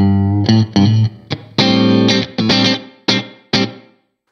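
An electric guitar runs through a Strymon Cloudburst reverb pedal set to its shortest decay, giving a tight room-like ambience: a handful of strummed chords and plucks, each ringing briefly and cutting off quickly with only a short tail.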